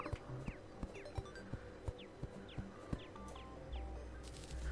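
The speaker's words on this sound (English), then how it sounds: "We got a lot of ambient noise with the birds." Ambient birds in the Terraria video game chirp faintly in short downward-sweeping calls, several scattered over a few seconds above a soft steady background with light clicks.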